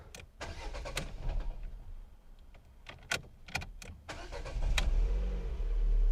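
A Lada Xray with a manual gearbox, left in neutral on the handbrake, cranks and starts on its own. A short grinding crank leads into a steady idle rumble, close by, with some clicks and interior noises before it.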